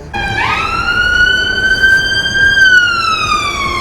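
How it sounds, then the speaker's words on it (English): An ambulance siren sounds nearby in Edinburgh at Christmas, a loud sustained tone that rises sharply, holds steady, then slowly falls away. "Not a fire engine, it's an ambulance."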